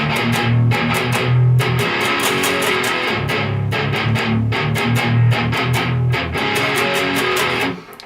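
Heavy distorted electric guitar breakdown riff, chugging low palm-muted notes broken by choppy stops in a steady driving rhythm, loud and up close with no talking.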